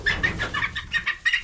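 Chickens squawk in loud, repeated bursts while being moved into a coop, several sharp cries in quick succession with no talk.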